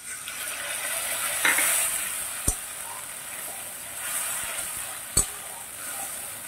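A steady, soft sizzle of ground cumin, ginger and green chilli paste frying in oil with tomato in a covered pan, with two sharp clinks of a utensil against the pan and no talking.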